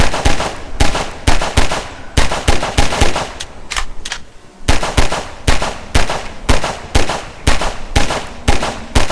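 Rapid bursts of gunfire ring out in Garry's Mod, loud sharp shots in quick repeated volleys with brief pauses between them, alone without talk.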